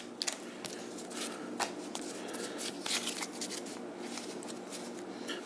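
Pokémon card booster packs being ripped open by hand, close crinkly foil tearing and rustling with scattered sharp crackles and card handling throughout.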